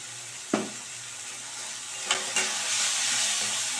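Chicken keema masala frying in oil in a pan, stirred with a few sharp scrapes over a steady hiss and sizzle, close and alone.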